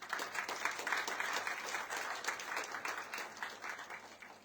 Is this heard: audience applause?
yes